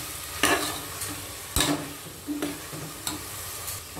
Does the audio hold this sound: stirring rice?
yes